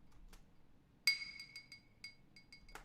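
Glass clinks with reverb and delay added in a music production sample: a few sharp bright taps, one ringing hit followed by echoing repeats that fade, quiet and close.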